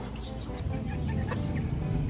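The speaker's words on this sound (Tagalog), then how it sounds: "buhay pa naman yung mga ibon natin kay Ilocano." Chickens clucking at home after a typhoon, several birds giving short close clucks and calls in a loose, overlapping rhythm against an outdoor background.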